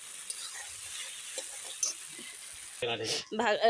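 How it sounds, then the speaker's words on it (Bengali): Chicken pieces fry in a spiced masala in a pan, giving a steady soft sizzle and hiss, then loud scraping and clattering stirring near the end. "মশলা কষানো হয়ে গেছে আমি এখন চিকেনটা দিয়ে দিচ্ছি"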